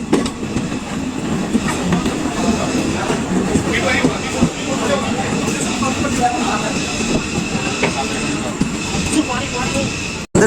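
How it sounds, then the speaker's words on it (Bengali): Teesta Torsha Express pulling into New Farakka Junction, heard from inside a sleeper-class coach as a steady, loud rumble with rhythmic wheel clatter throughout, faint voices in the background, and a brief drop near the end. "আমাদের ট্রেন ঢুকছে এই মুহূর্তে নিউ ফারাক্কা জংশন"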